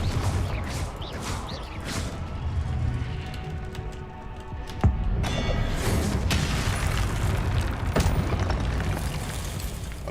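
Confringo blasting spells explode in Hogwarts Legacy, a loud, continuous rumble of booms and crashes with whooshing bursts layered over one another for the whole stretch.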